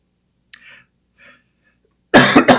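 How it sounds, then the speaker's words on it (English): A single loud, harsh cough bursts out near the mic after a couple of faint breathy sounds in an otherwise quiet room. "Sorry, got quite a cough just at the moment."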